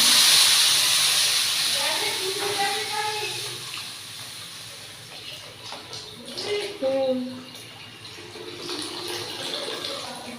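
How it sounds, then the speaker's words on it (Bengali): Water rushes into a cooking pot of dalia in a home kitchen, a loud hissing pour that fades to a softer trickle while someone talks over it. "এটার মধ্যে এবার জল দেবো, দিয়ে দিলাম।"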